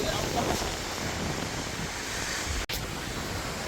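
Navja (Ozarde) waterfall at Koynanagar gives off a steady broadband roar mixed with wind buffeting, with one abrupt momentary dropout.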